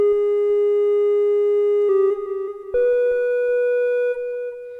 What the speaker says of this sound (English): then the source wave is just a triangle wave.